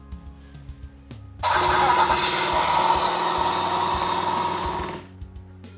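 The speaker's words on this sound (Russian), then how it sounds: "Подносим ключ, заводим мотор и смотрим, как забавно заводится машина." Toy Lightning McQueen plush car plays an engine-start sound effect: a sudden loud burst of revving engine noise that holds steady for several seconds, then cuts off abruptly, with quiet background before and after.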